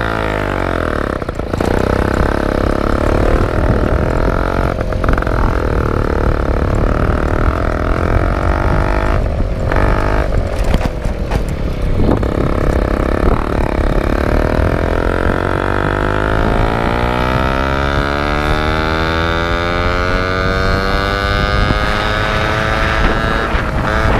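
Moped engine fitted with a Gilardoni kit and a 15 mm carburettor runs close by, a steady loud buzzing idle with some revving and wavering pitch toward the end.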